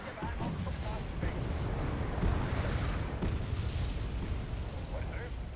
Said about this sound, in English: Oh god, so much artillery.